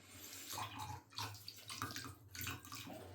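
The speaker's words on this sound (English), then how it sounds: "I'm just gonna dip her hair in the boiling water because she's got a lot of hair" A doll's long hair dipped and swished in a pot of boiling water, with close watery sloshes and gurgles coming in uneven bursts, fairly quiet and without talk.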